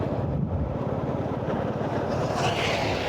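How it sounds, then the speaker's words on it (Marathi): Cool breeze blowing beside a national highway, heard as steady broadband wind rumble buffeting the microphone throughout, with a faint hiss rising toward the end. "थंड अशी हवेची झुळूक येते बघा"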